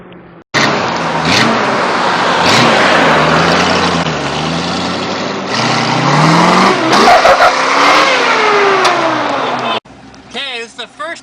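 A junkyard-rescued Jeep CJ5 with a V8 roars loudly on the road during a test drive, the engine revving and rising in pitch with some tire squeal, steady throughout until a sudden cut near the end.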